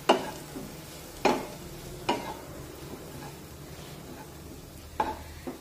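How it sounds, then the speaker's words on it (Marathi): Grated dry coconut sautéed in a pan for stuffed chillies gives a soft steady sizzle, punctuated by a few sharp spatula scrapes and taps against the pan. "3 ते 4 चमचे किसलेलं सुकं खोबरं घालूया आणि हे खोबरं सुद्धा छानपैकी परतून घेऊया।"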